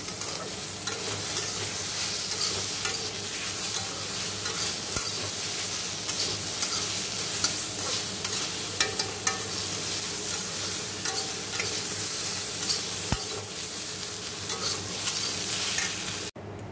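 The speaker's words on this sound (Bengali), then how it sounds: "দেখো এই যে বেগুনটা ভেজে নিয়েছি।" Eggplant frying in hot oil in a wok, a loud, dense, steady sizzle that runs without a break for about sixteen seconds, with no voices.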